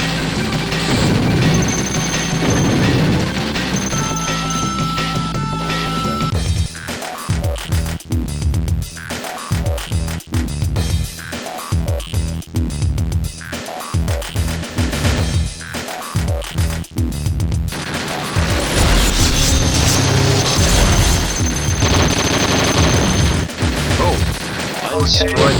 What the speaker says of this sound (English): Just dropped the bomb already